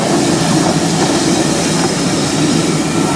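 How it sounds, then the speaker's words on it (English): Vintage train passing on the Keighley & Worth Valley Railway during a spring steam gala, a loud dense rolling rush of wheels and carriages with no voices. "The vintage train."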